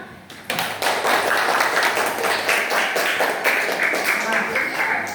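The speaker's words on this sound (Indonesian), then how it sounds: "Tepuk tangan." A classroom of students applauds after a group presentation, with brisk, dense clapping starting abruptly and continuing steadily while voices mingle underneath.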